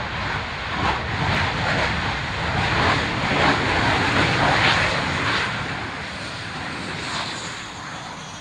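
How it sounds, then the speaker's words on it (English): An airplane touching down with full reverse thrust, a loud sustained roaring jet rush that swells in the middle and eases slightly toward the end. "Full reverse on the airplane."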